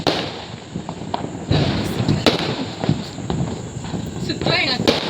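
Sharp Diwali firecracker bangs pop irregularly over crackling noise, several loud cracks close by, with voices in the background.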